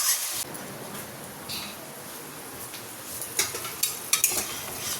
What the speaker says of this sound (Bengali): নুন হলুদ দিয়ে দিলাম, এবার ভালো করে কষিয়ে নিতে হবে